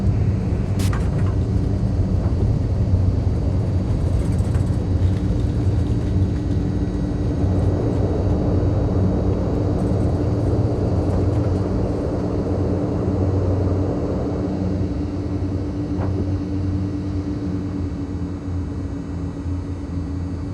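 Skyvan twin-turboprop taxiing to parking in Microsoft Flight Simulator 2020, a steady droning engine hum with low rumble throughout, loud and continuous, easing slightly toward the end.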